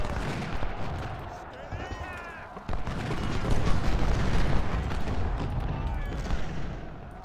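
Civil War cannon and rifle fire rumble across a Gettysburg battlefield in Ultimate General: Civil War, dense overlapping booms and crackling volleys rolling continuously, with a voice talking underneath.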